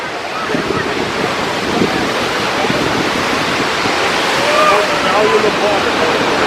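Niagara Falls, on the Canadian side, roars as a loud, steady broadband wash of falling water heard up close in heavy spray, with wind buffeting the microphone throughout.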